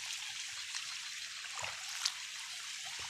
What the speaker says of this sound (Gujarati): પાણી આવ્યું છે એટલે ખેતરનું નીકળે છે